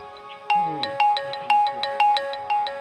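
A phone ringtone plays a repeating electronic melody, loud and close, its bright chimed notes pulsing in a steady rhythm roughly twice per second, with no one speaking.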